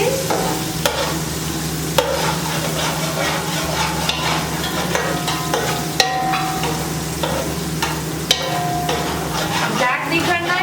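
Ingredients and chopped green onion fry in hot oil over a full flame for Chinese rice with chicken Manchurian, giving a loud, continuous sizzle with periodic clinks of a utensil stirring the pan.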